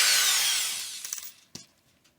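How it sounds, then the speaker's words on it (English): A power drill with a 1/8 inch Milwaukee bit spins down from a loud, high whine that fades over about a second, followed by a few scraping, knocking contacts and a sharp clack, with no speech. "Get ourselves an 1/8 inch drill bit."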